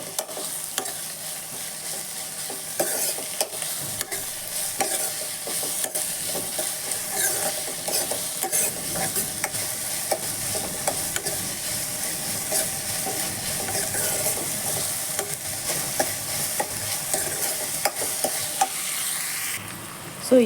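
Squid fries in a pan, giving off a steady close sizzle with frequent stirring scrapes and small crackles that hold at an even level for about twenty seconds, with no talking.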